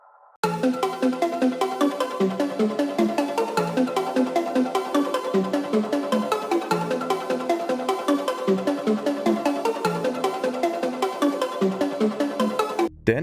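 A processed, brightened melody for a UK underground beat loops continuously as a dense, rapid repeating synth pattern, loud and steady with no drums or talk.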